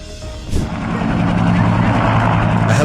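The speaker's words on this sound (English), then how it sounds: "Helicopter Red Bull Cobra IH-1 belonging to the Flying Bulls fleet had an accident at Hoffen Airfield" A loud, steady mechanical roar of a Red Bull Cobra IH-1 helicopter engine building up during a crash at an airfield, with a couple of sharp bursts of noise, and voices faintly underneath.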